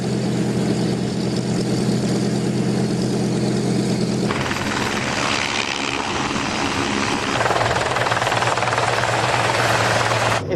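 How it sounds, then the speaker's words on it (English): World War II bomber's piston engines run at a steady loud drone that shifts and thickens midway as more power comes in, heard close up with no talking. "Engine starts."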